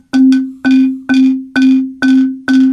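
A Guatemalan marimba strikes the same low note six times at a steady pace, each note ringing with a buzzing, rattly edge from a membrane on its gourd resonator.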